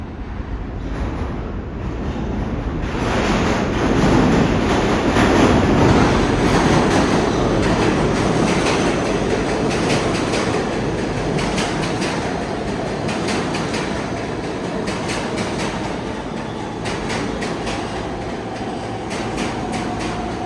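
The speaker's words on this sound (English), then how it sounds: "I think another train is coming." A subway train pulls into Canal Street Station in New York, its loud sustained roar swelling then holding with steady clickety-clack of wheels and a faint squeal, heard close with no talk.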